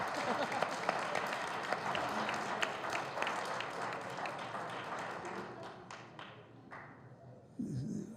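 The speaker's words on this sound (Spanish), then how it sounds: "hay que aplaudirle a Cortázar" An audience at a Rayuela commemorative book event at the Guadalajara book fair applauds for Cortázar, dense clapping that gradually thins and fades, with a voice starting up near the end.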